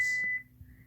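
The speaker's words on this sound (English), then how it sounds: "It beeps." A single short, clear electronic beep from an Android phone as Google Assistant activates. A faint trailing tone follows in a quiet room.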